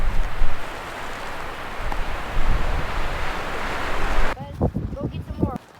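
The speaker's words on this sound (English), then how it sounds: "Very windy day." Strong wind gusting at a boondocking campsite near Williams, Arizona, a loud roaring buffet across the microphone that cuts off near the end as someone speaks.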